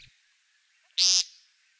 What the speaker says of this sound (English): a nasal buzzing call birders know as the peent